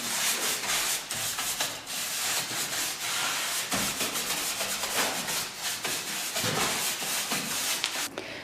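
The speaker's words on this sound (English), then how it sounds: "we're just using a brush to get rid of any of the debris" A brush sweeps fine sanding dust off a wooden table and chairs, giving continuous close scratchy rubbing strokes in uneven bursts with no voices.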